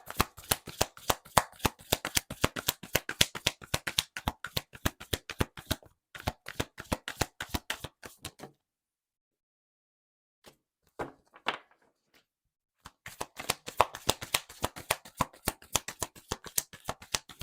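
Moonology oracle card deck being shuffled up close, rapid runs of crisp card slaps and riffles, pausing briefly into near silence before resuming.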